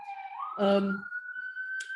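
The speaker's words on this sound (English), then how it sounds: "forgive my sirens in the background here" A distant emergency siren wails and rises in pitch outside, continuing as a steady tone in the background, with a brief burst of other noise partway through.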